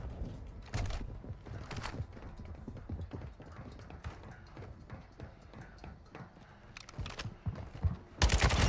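Kastov 762 gunfire in Warzone, with scattered sharp shots and short bursts at irregular intervals, some close and loud, others fainter, over a busy game background and a loud burst at the end.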